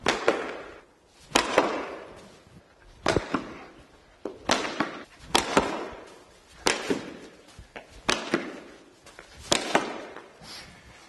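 A cricket bat strikes balls in rapid-fire pull-shot practice, giving a series of sharp, loud cracks roughly every second with brief quieter gaps between hits and no talking.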